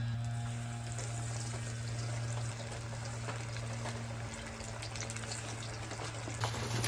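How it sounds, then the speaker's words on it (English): Steady broadband sizzle and crackle of fish frying in hot oil, continuous and fairly loud, with a low steady hum underneath throughout. "this grease is where we're going to be frying the shrimp and fish right now"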